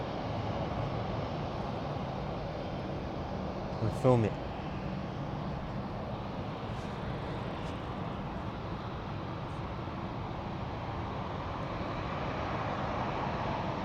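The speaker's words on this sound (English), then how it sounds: "Now let's just track this whole plane actually go and park up" An airplane taxiing to park at London City Airport, a broad steady jet engine roar at moderate distance that holds constant throughout, with a brief swooping whistle and a person speaking briefly nearby.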